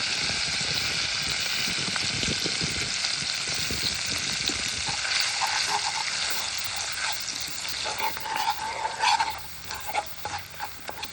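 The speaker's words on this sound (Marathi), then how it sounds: "आता आपण मंडई आपलं स्पेशल मालवणी भाजको मसालो घालतलो आतमध्ये" Malvani roasted (bhajko) masala frying in a pan in a Konkan home kitchen, a steady loud sizzle running throughout with a few scraping stirs and brighter crackles toward the end.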